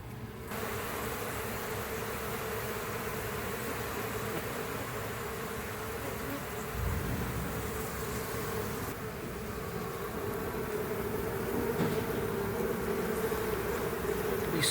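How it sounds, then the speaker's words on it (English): Honeybees swarming during a hive removal from a trailer in Auburndale, Florida, a constant dense buzzing drone, loud and close throughout with no pauses. "so this is actually more bees than it looks like"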